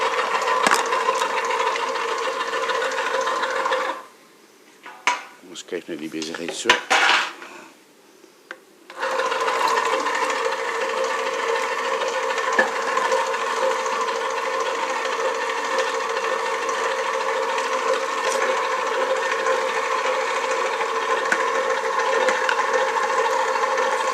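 An electric meat grinder mincing meat for homemade boerewors, a steady loud mechanical whir that runs continuously, briefly cutting out and restarting partway through, with a short spoken remark over it.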